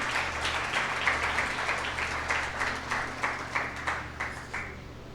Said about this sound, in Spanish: Dale un aplauso al Señor esta mañana.